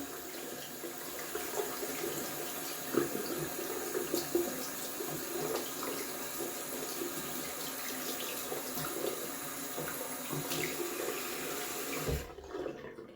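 Tap water runs steadily to rinse out a shaving-lather tub, a close, continuous splashing rush that stops abruptly near the end.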